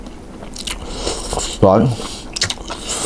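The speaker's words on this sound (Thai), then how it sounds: "เห็ดเข็มทองแบบกรึบกรึบกรึบกินกับน้ำจิ้มสุกี้เจนะครับ" Crisp, close bites into enoki mushrooms dipped in vegetarian sukiyaki sauce give a few short crunches, with a brief spoken word in the middle.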